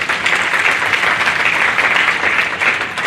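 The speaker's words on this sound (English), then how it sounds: "Let's give these kids a round of applause." Sustained applause from an audience at a junior livestock show in Moore County, steady and full throughout with no talking over it.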